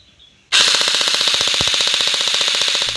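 An M4A1 electric gel blaster toy rifle opens up after a short quiet pause, firing one long, fast, sustained burst of sharp rapid shots, loud and close.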